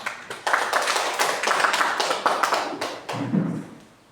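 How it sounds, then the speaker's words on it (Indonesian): A church congregation at a Sunday worship service claps together in a loud, close burst of rapid hand claps lasting a few seconds, then trails off, ending with a low thump. "Beri tepuk tangan kemuliaan Tuhan."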